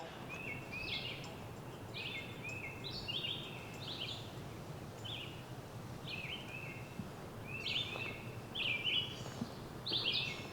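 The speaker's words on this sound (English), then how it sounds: "those birds are loud" Several birds sing loudly in a woodland on the Potawatomi Trail, bright chirping phrases repeating in bursts over steady rustling ambience, growing busier and louder toward the end.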